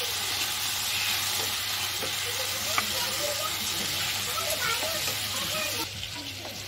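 Food in a frying pan sizzles with a steady bright hiss while a spoon stirs and mixes it, giving faint scraping taps, and a voice talks over the sound.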